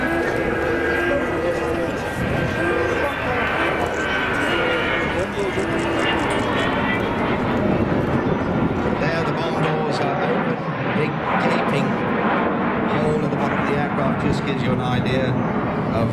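Avro Vulcan XH558 delta-wing bomber performing a display at a 2015 Scottish airshow, a steady broadband jet roar that fills the whole stretch, with a public-address voice talking over it.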